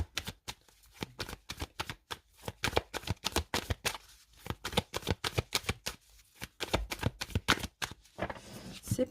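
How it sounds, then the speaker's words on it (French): Tarot cards being cut and shuffled up close, a dense run of rapid papery riffles and flicks in quick bursts, steady and fairly loud with no voices. "on va commencer par faire une coupe pour voir un petit peu votre état d'esprit"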